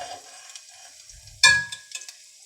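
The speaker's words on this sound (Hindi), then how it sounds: "ये लहसुन हमारा गोल्डन हो रहा है।" Garlic fries golden in a pan for aloo palak, a soft, faint sizzle with a sudden metallic clang of a spoon against the pan partway through, followed by a few lighter taps.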